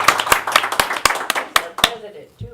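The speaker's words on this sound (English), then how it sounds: "A round of applause," A small group claps at a local talk-show taping, a few sharp, separate claps in uneven rhythm with voices talking over them, then the clapping fades out.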